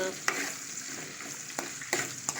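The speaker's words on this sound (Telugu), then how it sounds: "ఇప్పుడు ఆనియన్స్ వేసుకోవాలి. ఇప్పుడు మనం కలబెట్టుకోవాలి." Onions fry in oil for a drumstick and tomato curry, a close steady sizzle with several sharp spatula scrapes as they are stirred.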